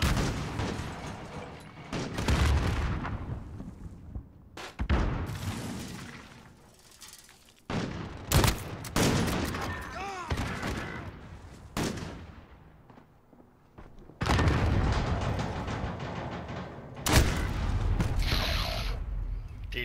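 Sniper rifle shots and battle noise in a Search and Destroy multiplayer match, loud separate cracks followed by fading tails, spaced irregularly through the fight with no talk.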